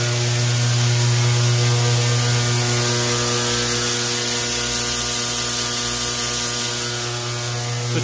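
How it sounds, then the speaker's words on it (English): A grain auger runs continuously, feeding wheat into a box, giving a loud, steady mechanical drone with a strong hum and rattling grain throughout, close and unbroken; no voices. "My auger set up, auger some wheat into the box."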